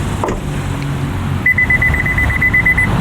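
A rapid series of high electronic beeps sounds from a 2023 Acura Integra, evenly spaced over about a second and a half, fairly loud and close.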